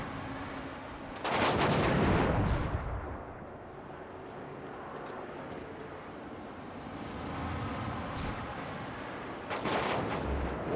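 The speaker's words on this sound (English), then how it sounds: "Why is there airstrikes happening?" Airstrike explosions rumble through an open-world scene in the video game Just Cause 3: a heavy booming blast, then a long, low roar, and another loud burst near the end, with no voices.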